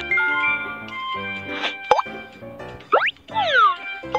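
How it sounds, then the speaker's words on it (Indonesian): A disposable ice pack is shaken in a BabyBus children's video game, with bright cartoon plops and quick sliding swoosh effects that play loudly over light tonal game music. "Kocok kompres es untuk mendinginkannya."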